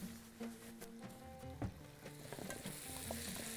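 Onion and potatoes sizzle and fry in a pan while being stirred, a steady crackling hiss broken by scraping stir strokes and utensil knocks, close and moderately loud with no talking.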